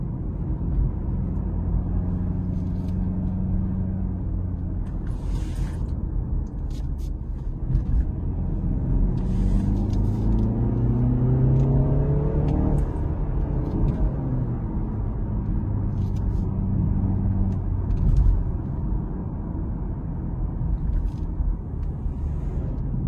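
A BMW 330e xDrive Touring plug-in hybrid estate drives along, its steady low engine and road rumble continuous throughout, with a rising and falling engine tone in the middle as it shifts into hybrid mode.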